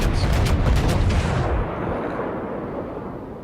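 A heavy salvo from battleship guns in the naval video game World of Warships booms loudly at the start, then rolls off into a long rumbling decay.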